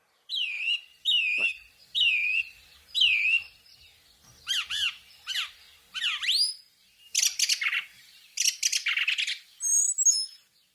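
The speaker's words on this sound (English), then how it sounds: "watching the gorgeous flocks of golden plover arrivals" A series of clear, plaintive whistled calls from a flock of golden plover repeating in short bursts, some overlapping, close and loud against silence.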